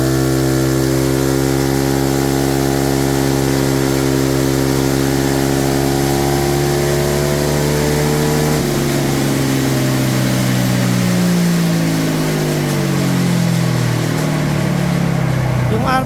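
Remapped car engine on a dyno, loud and steady throughout as revs climb in layered harmonic tones, then shift and sweep at a gear or load change partway through, with a person talking over the running engine.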